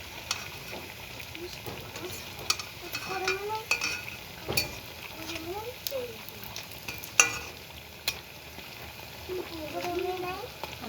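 Food fries in hot oil in a pan with a soft, steady crackling sizzle and occasional sharp pops and clinks, faint and close, while a voice talks intermittently over it.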